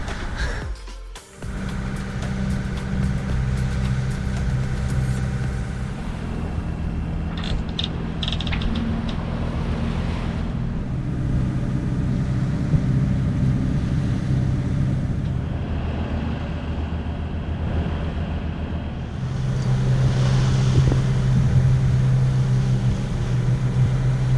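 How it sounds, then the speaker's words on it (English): Diesel engine of a sailboat running under way at sea, a steady low droning hum with shifting tonal whine and some mechanical rattles, continuous and fairly loud, no talking. "It's gonna be a little different sleeping with the diesel running though."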